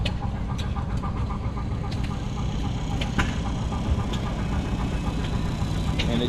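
A D17 gas tractor engine runs steadily at a threshing bee, a loud, constant low rumble with faint periodic clicks and ticks throughout.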